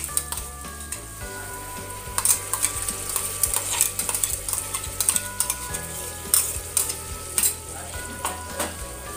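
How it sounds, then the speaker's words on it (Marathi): Onion and tomato paste sizzles and fries in a pan while being stirred, with steady crackling and repeated scraping and clinking of a spoon against the pan, close and alone without talk. "तर ही पेस्ट देखील आपल्याला छान यामध्ये परतून घ्यायची आहे."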